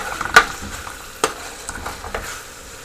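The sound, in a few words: beef and potatoes stir-frying in a pan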